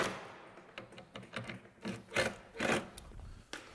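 Bolts being tightened on the wooden legs of a Legacy shuffleboard table, heard as a run of close, sharp ratcheting clicks and knocks with several louder bursts, no voices.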